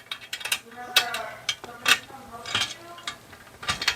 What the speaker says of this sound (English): they gave us a little Allen key there, and I can attach that to the back and cinch that down.